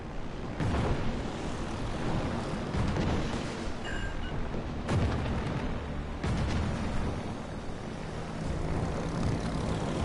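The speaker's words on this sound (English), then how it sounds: "That broadside nearly did it in." Naval guns unload a broadside in World of Warships Legends, with a few heavy booming blasts standing out over a steady, droning rumble of engines and battle noise.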